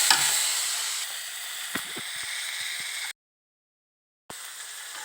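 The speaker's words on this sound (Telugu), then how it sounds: "మెంతి కూర వేసిన బాగా ఫ్రై అయ్యిద్దాం ఇట్లా." Fenugreek leaves frying in a pan, a continuous close hiss and sizzle with a few soft stirring knocks, broken by a short total dropout before the sizzle resumes.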